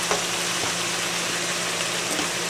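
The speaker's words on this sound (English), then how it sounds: "I'm gonna let that fry for some time." Pacific whiting fries in a pan, a steady hissing sizzle with faint crackles over a low background hum, close and continuous, no voices.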